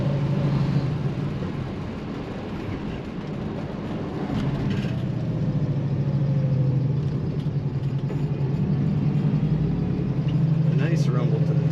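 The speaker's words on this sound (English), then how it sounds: "Nice rumble to this car." A black 1978 Chevrolet Camaro Z28 idles with a deep, steady engine rumble, loud and close, the low throb holding evenly throughout.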